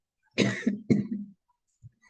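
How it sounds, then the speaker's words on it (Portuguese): Two harsh coughs in quick succession, close and loud, followed by a brief short rasp after a pause. "agora vem meu acesso de tosse"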